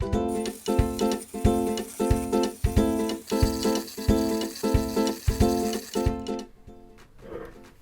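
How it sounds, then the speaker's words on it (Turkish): An electric mixer whisks eggs for a strawberry-banana cake batter, giving a close, loud motor hum that pulses in a regular rhythm and then stops near the end. "Şimdi mikserle bunu yaklaşık bir 10 dakika çırpacağım."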